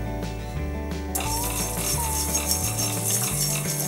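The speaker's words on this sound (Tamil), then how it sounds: "இந்த கொத்தமல்லியை வந்து நம்ம வறுத்துக்கலாம்." Coriander seeds dry roasting in a pan for green chilli pickle: a dense, continuous rattling and clinking of small dry seeds being stirred against metal, close and steady, over a faint background hum.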